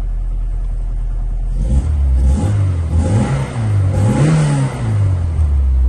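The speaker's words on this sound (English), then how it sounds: "Start it up here so you can hear it run." A 1988 MG Montego EFI engine turns over and fires up, then idles with a low rumble and a couple of quick revs close by.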